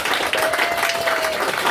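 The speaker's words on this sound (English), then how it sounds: "can we just give a big round of applause to Dave Flynn?" A crowd in a bar claps and cheers at a live closing set, dense continuous applause that stays loud and close throughout.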